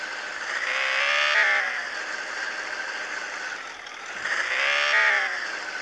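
A truck passes by on the road as a medium engine swells in and fades out. Two passes are heard, with a quieter steady hum between them.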